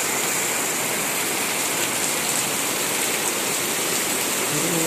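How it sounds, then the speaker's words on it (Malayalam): Floodwater from an hour of heavy rain surges across a road, giving a loud, continuous rushing wash with no letup and no voices. "ഒരു മണിക്കൂർ പെയ്തപ്പോൾ ഇത്രയും വെള്ളം വന്നു"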